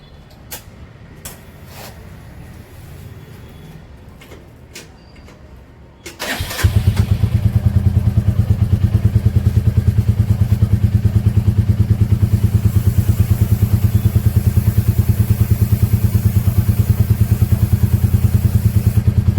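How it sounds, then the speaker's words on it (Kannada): A motorcycle engine starts during bike maintenance: a few faint clicks and rattles, then a sudden catch into a loud, steady, rapidly pulsing idle that runs on close to the mic. "ಇದು ಬೇಕಾದ್ರೆ ಗಾಡಿ ಸ್ಟಾರ್ಟ್ ಮಾಡಿಕೊಂಡೆ ಮಾಡೋಣ."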